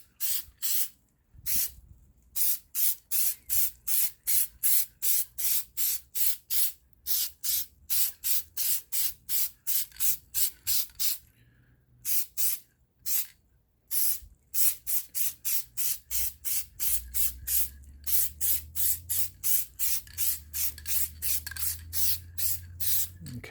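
Short bursts of spray paint hiss onto a curb-damaged wheel for a tack coat, dozens of quick close puffs in steady rhythm with brief pauses between runs, and no talking.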